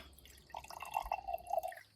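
Lemon balm and ginger herbal tea poured into a cup, a thin steady trickle of liquid lasting just over a second, close and fairly quiet with a faint glassy ring.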